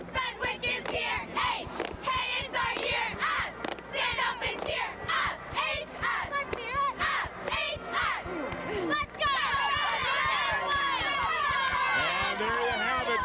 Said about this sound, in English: let's hear it from you now, Fenwick Friars. Fenwick Friars cheer to go to break here